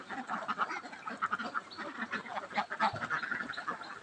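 A flock of ducks on a small family farm quack continuously, a dense overlapping chatter at moderate distance with no clear break.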